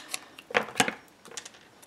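Scissors snipping a small scrap of paper during card making, a few short crisp cuts in quick succession, close and fairly quiet.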